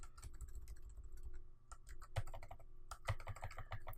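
Typing on a computer keyboard, close, quick irregular key clicks at low volume with a couple of louder keystrokes, no voices.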